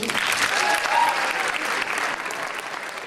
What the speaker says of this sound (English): Please give a big applause for Portugal, Italy, Spain,